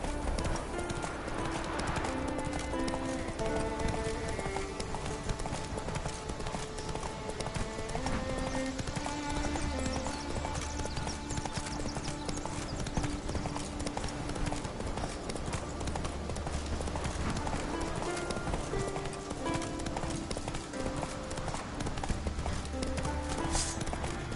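Horse hooves clip-clop steadily and continuously as a horse gallops in The Witcher 3: Wild Hunt, over game music with occasional speech.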